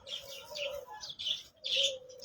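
Pigeons at a bird market in Rawalpindi give soft chirps and calls in short bursts, fairly faint, with slight rustling and no voices.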